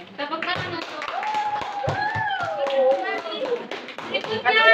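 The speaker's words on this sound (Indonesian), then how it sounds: "Tepuk tangan untuk." A classroom of students claps for a student group, scattered hand claps mixed with lively children's voices talking and calling out over the top.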